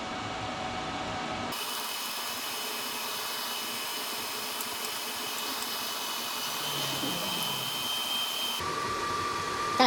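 A Harbor Freight Titanium Unlimited 200 wire-feed welder running its wire feed with no gas hooked up: a steady mechanical whir holds close and loud at even pitch, then cuts off near the end.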